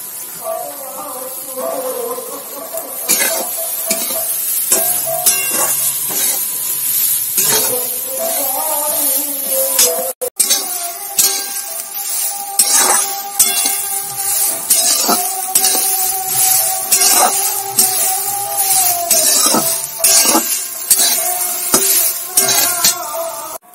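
Grated carrots frying in a pan for carrot halwa, a continuous loud sizzle broken by frequent stirring scrapes and clinks of a utensil, with faint background music.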